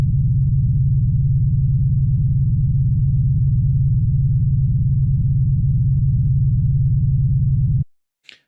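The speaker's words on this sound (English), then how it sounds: "a good background noise, spaceship hum." A steady, deep electronic spaceship hum from Unreal Engine 5 MetaSounds drones continuously for several seconds, low and rumbling like a spaceship engine, then cuts off abruptly.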